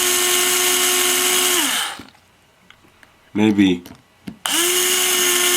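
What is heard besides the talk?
power drill tightening screws on Axial Yeti kit frame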